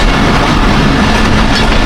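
The Thall Express roars through Masan railway station without stopping, a loud, dense, continuous rumble of rolling wheels and carriages close by.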